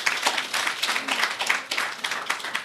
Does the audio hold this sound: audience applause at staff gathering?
yes